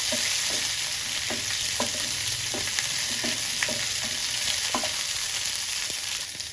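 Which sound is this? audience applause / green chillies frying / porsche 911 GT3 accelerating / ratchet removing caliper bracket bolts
green chillies frying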